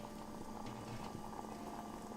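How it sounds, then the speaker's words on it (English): Pizza sauce simmers in a pot with a faint, soft bubbling and popping, quiet and steady throughout. "We got our sauce simmering"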